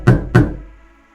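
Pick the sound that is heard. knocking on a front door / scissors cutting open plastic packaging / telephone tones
knocking on a front door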